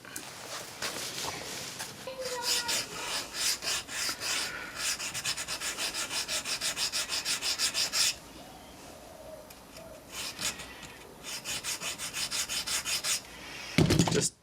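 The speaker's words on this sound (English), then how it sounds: "Even just rubbing it on the concrete" A metal part from a Hitachi 18V reciprocating saw is rubbed back and forth on concrete, a close rasping scrape in repeated strokes with short pauses between bursts.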